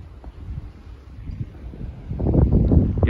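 Outdoor wind buffets an iPhone XR microphone under a cloudy sky, a low rumbling gusty noise that swells stronger and rougher in the last second.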